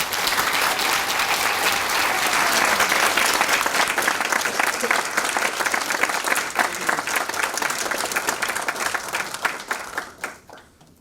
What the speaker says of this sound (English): Thank you for a very hearty round of applause.